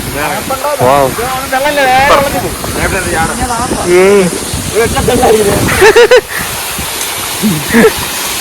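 Water tumbling downward at a waterfall on a Kuttikkanam trip makes a constant rushing hiss in the background, mostly covered by loud, close voices talking.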